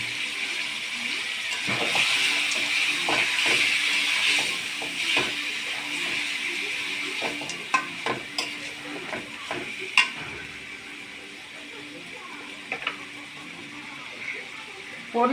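Pigeon meat frying in hot oil, a loud continuous sizzle and hiss with intermittent clicks and scrapes of stirring, close by, with a voice speaking over it.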